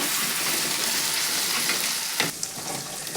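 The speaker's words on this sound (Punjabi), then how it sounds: "ਪਾ ਦਵਾਂਗੇ ਜੀ ਆਪਾਂ ਲਸਣ ਅਦਰਕ ਦਾ ਪੇਸਟ" Garlic and ginger paste sizzles steadily in a hot pan over medium heat while turnip curry is cooked, a close, continuous frying hiss with a brief stirring scrape near the end and no talk.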